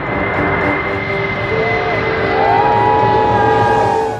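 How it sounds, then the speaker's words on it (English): The Stratolaunch Model 351, a twin-fuselage American carrier aircraft, roars steadily with a loud broadband engine rush and sustained droning tones that rise slightly as it passes, heard without speech. "Stratolaunch Model 351 is an American carrier aircraft."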